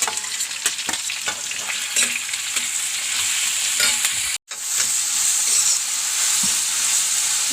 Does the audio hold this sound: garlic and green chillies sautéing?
yes